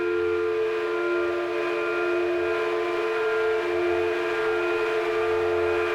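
A hit on a tongue drum, time-stretched with Paulstretch into a smooth, continuous drone of layered sustained tones, steady and moderately quiet for the whole stretch with no talking.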